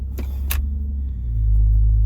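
A 2005 Nissan Murano engine idles with a steady low rumble, then the drone deepens and swells as the transmission drops into gear, heard up close with no talk.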